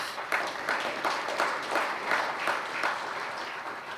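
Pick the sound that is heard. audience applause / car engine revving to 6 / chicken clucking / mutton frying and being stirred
audience applause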